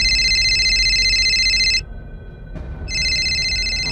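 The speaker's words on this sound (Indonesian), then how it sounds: "tiba-tiba terdengar suara handphone dari salah satu anggota tim." Mobile phone ringing with a loud, steady electronic ring that stops briefly midway and then resumes, heard alone with no talk.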